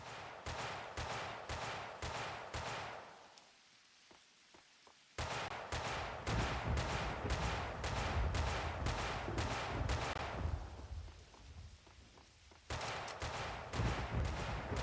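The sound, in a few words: sniper gunfire in video game Max Payne 2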